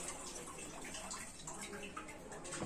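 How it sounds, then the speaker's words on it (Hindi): Water is poured gently through a cloth strainer into a vessel, giving a steady soft trickling and splashing with faint drips, fairly quiet throughout. "चौथी लेयर पे जीवानी आराम से डालिए कि पानी किसी बर्तन के अंदर जाए"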